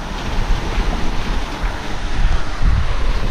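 Strong wind buffets the microphone and waves rush past a sailboat running fast along the edge of a Caribbean squall, a loud, continuous roar of gusts and water surging in uneven swells.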